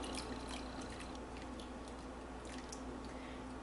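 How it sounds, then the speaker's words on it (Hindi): Water mixed with dissolved tartaric acid and alum pours steadily into a pot of boiling milk, a continuous close liquid wash with faint drips throughout, no talking. "अब 2 मिनट गुजरे हैं तो मैं इसमें टाटरी वाला पानी शामिल कर दूँगी।"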